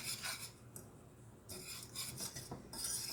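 Metal whisk scraping and rasping through a baking mixture in a pot, in quiet bursts of brisk stirring with short pauses.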